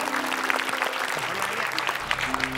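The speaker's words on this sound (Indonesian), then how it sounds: "Boleh tepuk tangan dulu" A television studio audience claps at a comedy show, steady applause running throughout under background voices and music tones.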